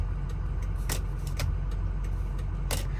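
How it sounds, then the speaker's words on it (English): Turn signal blinkers tick in an ultra clean, stock 2005 Ford F250 Lariat diesel truck, giving a quiet series of sharp clicks over a low steady cabin hum. "Blinkers."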